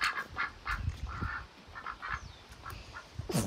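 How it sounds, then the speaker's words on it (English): An attacking duck quacks in a run of short, loud, nasal bursts, close by, with brief pauses between calls and scuffling noise underneath. "Oh, the duck's now attacking."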